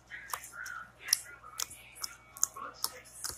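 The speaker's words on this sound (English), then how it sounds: "It makes a good clicking sound" Sharp, crisp clicks and pops of slime being worked repeat at irregular intervals, close and fairly quiet, with faint soft rustling between them and no voices.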